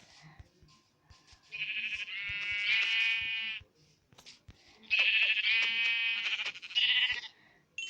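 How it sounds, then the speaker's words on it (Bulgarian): Sheep in a video game bleat in two long, loud, wavering cries separated by a pause, each bleat preceded and followed by quick soft clicks and taps of game play. "Защото една овца видях."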